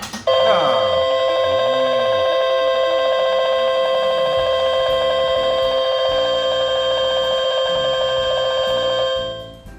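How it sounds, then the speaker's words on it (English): A casino slot machine rings out after hitting a jackpot, loud sustained bell-like tones over a bouncing electronic melody that runs for several seconds before cutting off. "I literally plugged it in and played 3 credits and hit a jackpot."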